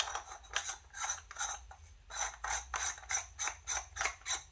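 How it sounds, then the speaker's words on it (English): Screw being tightened on an NWell MP5 gas blowback gel blaster barrel upgrade: a close series of quick ratcheting clicks and scraping mechanical turns in short bursts, with a pause midway, no voices. "You would then tighten the screw"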